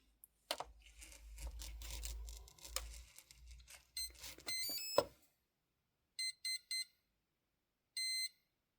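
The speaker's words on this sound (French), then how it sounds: "le récepteur va émettre une suite de 3 bips courts suivis d'un bip long" Electronic beeping from an RC model ESC during battery check: three short high-pitched beeps followed by one longer beep, heard alone after a burst of crinkly noise.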